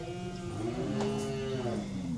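Cattle moo at a ranch during an auction-day roundup, one long sustained low bellow with another voice overlapping, close and loud against a steady background, no talking.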